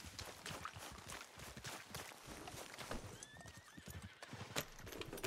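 Horse hooves clip-clop steadily in Red Dead Redemption 2, with a whinny partway through, over busy game ambience.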